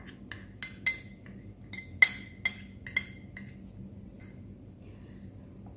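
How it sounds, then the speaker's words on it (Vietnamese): A spoon clinks against a cup while stirring cocoa powder into milk for a sweet filling, with several sharp metallic taps in the first three seconds that fade into quiet scraping, close and clear. "Rồi mình khuấy để cho cái bột cacao nó tan với sữa luôn nè."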